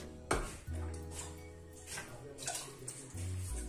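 Water splashes and trickles into a metal pan, with a few clinks of the pan against a surface nearby.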